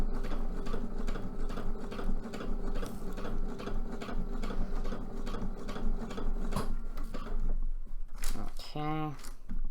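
A home sewing machine runs steadily for about eight seconds in a cosplay workshop, a dense rhythmic mechanical whir and clatter, then stops, followed by a short burst of other sound at the end.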